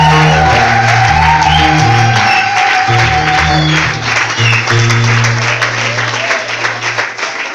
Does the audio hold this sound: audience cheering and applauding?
yes